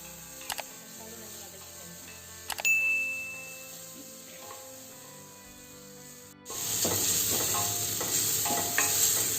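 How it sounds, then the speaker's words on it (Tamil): Tomatoes sizzle and crackle in a hot pan while being stirred, the frying growing suddenly louder and fuller partway through after a few soft knocks. "தக்காளி நல்லா வதக்கி வச்சு"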